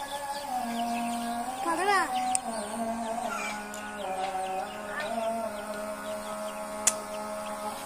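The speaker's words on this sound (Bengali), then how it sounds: "মুরগিগুলা ফ্যানের কাছাকাছি চলে আসছে" Chickens in a shed with a fan running, several birds giving rising, wavering clucks and calls over a steady mechanical hum, with a couple of sharp knocks.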